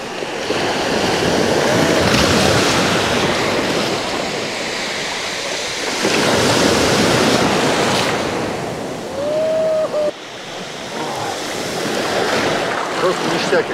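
Sea waves wash onto a pebble beach at Sukko near Anapa at the end of the season, loud rushing surges that rise and recede in slow cycles, with wind noise on the microphone.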